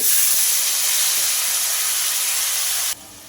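Ginger-tomato paste sizzling loudly in hot oil with whole garam masala, cumin, a bay leaf and a dried red chilli, a steady bright hiss that cuts off abruptly near the end.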